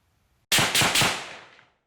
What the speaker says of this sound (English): When you record a gunshot in real life, it sounds a bit like this.